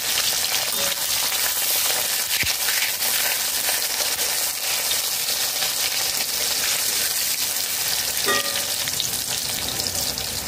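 Chopped onions fry in hot oil in a pan, a loud, continuous sizzle with faint stirring scrapes and clinks throughout.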